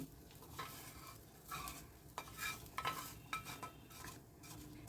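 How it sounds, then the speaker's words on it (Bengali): Grated coconut tipped into simmering sesame chutney, with soft sizzling and irregular stirring scrapes and light clinks of utensil against pot, fairly quiet and close. "এবার এই নারকেলটা সব আমি এখানে দিয়ে দিচ্ছি"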